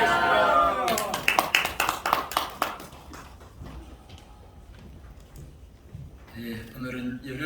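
Clapping at a Korean church thanksgiving worship service and press event held at a Seoul seminary. A raised voice comes first, then a loud burst of sharp, distinct claps that soon thins out and fades under quieter background sound.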